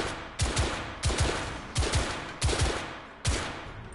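Gunfire in the video game The Order: 1886, six loud single shots at roughly even intervals, each with a sharp crack and a long decaying echo, heard without talk.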